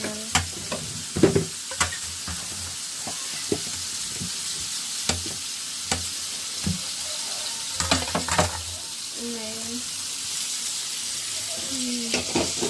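Sizzling oil with intermittent scraping and stirring clinks as chutney tempering fries in a pan, a few sharp taps and brief faint voice sounds in between.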